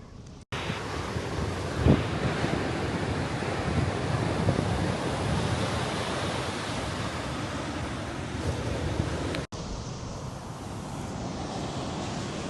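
Waves break and wash on the shore at Aberdeen beach in Scotland while strong wind buffets the microphone, a loud, continuous roaring rush with a brief thump and a short cut near the end.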